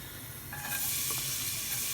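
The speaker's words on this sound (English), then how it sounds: "Here's the sizzle. Must be a hot pan." A sudden loud sizzle swells as shallots hit a hot pan with olive oil, then settles into a steady frying hiss.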